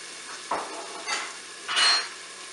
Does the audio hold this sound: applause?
no